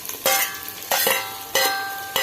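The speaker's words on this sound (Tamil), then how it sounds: "இப்போ இதில் 2 தக்காளி பழம் நறுக்கி வச்சுருக்கேன், அதை சேர்த்துக்கிறோம்." Two chopped tomatoes tipped into onions frying in a pan for a village-style fish gravy, giving four close bursts of hiss and sizzle as the pan is stirred, fading slightly between each.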